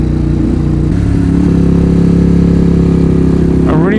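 A motorcycle runs loud and close, its engine droning at steady revs before climbing in pitch as the rider accelerates near the end.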